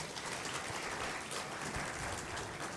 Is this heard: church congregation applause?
yes